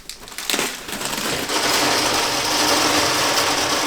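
Wood pellets pour from a cut-open bag into a boiler hopper, starting with a few clatters and building into a continuous loud rushing rattle of pellets sliding and piling up close by.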